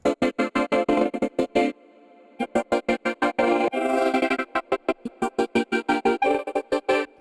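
Rapid, choppy granular synthesizer stutters pulse in tight rhythmic bursts, with brief gaps and a few sustained smeared stretches, loud and processed.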